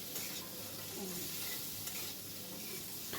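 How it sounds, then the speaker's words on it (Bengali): Food frying in a pan after salt is added, a steady close sizzle with faint stirring scrapes, continuous and even, without speech. "স্বাদ মতো লবণ দিয়ে এবার এটাকে খুব ভালো করে ভেজে নেবো"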